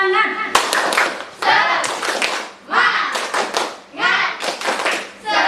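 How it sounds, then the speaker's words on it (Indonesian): Schoolchildren perform a rhythmic classroom spirit clap, sharp bursts of clapping in patterned groups with short pauses between them, and young voices chant along with the beats. "Tepuk semangat."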